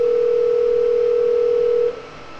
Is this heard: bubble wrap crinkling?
no